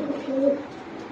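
Pigeons at a farm give one close, throaty coo that swells and fades within about a second over quiet surroundings.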